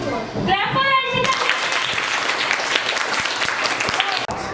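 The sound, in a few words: schoolchildren clapping in a classroom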